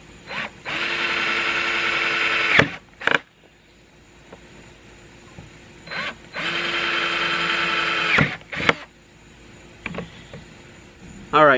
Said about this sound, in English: now that we have our holes drilled